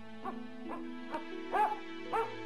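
A dog barks five times in short, evenly spaced yips, fairly close, over a low steady hum.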